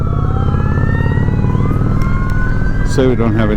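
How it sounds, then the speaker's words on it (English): Wailing emergency sirens rise and fall loudly over the steady engine drone of a Honda Shadow 750 ACE motorcycle, with a different yelping siren pattern breaking in near the end. "So I got sirens coming"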